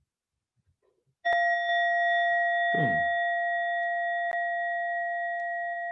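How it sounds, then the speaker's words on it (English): A single Insight Timer meditation bell struck once, its clear ringing tone sustaining steadily and slowly fading over several seconds, with a brief low thump near the strike and no talking. "And the bell has rung."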